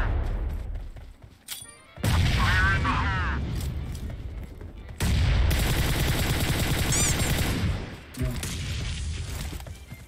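Distant gunfire from a firefight in the mobile battle-royale game PUBG Mobile, with loud bursts of shots and booms in two long stretches separated by brief lulls, mixed under players' voices talking.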